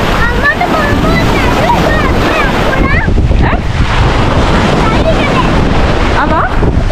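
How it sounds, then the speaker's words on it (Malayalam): Sea waves at a beach surge and wash in steadily as a loud, constant roar with wind buffeting the microphone, while people talk over it. "ഇത് നല്ല തിരയുണ്ട്. വെള്ളം ഇങ്ങോട്ടാണ്."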